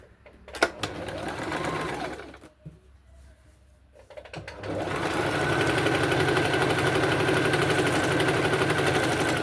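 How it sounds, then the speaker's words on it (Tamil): A sewing machine stitches a chudithar pant belt piece, a short burst of fast mechanical chatter, a brief pause, then a long steady run of rapid stitching, close and loud. "இந்த பெல்ட்டு பீஸ் வச்சுட்டு நம்ம ஸ்டிச் போட்டுக்கலாம்"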